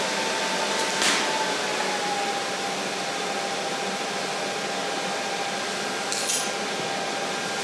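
MIG welding on the axle of a home-built welding cart gives a steady, continuous crackling hiss, close and unbroken, with a couple of brief brighter flares.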